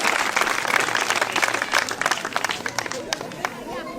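Audience applauding at a school end-of-year celebration held by a kindergarten teachers' association in Bouaké, a lively burst of many hands clapping that thins out toward the end, with some crowd chatter underneath.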